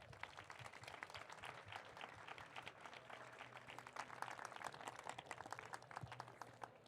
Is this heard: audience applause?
yes